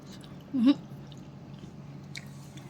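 A single crunchy bite and chew of a fried samosa (singara), one short close burst near the start, with quiet room noise and no other chewing after it.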